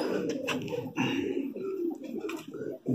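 An eighteen-year-old high flyer pigeon from Agra coos close by, repeated throaty rolling calls in uneven bursts with short pauses between them.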